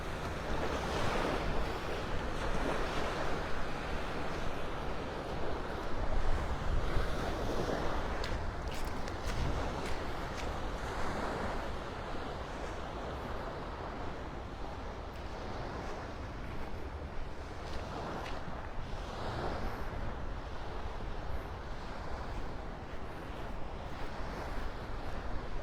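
Ocean surf washing onto the sand at Delnor-Wiggins beach in North Naples, Florida, a steady broad roar of breaking waves with gusts of wind noise across the microphone, continuous for the whole stretch.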